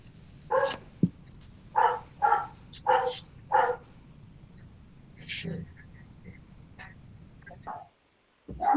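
A household dog barks in a burst of about five sharp, fairly close barks, followed by fainter sounds and a brief quiet stretch, all over a low background hum.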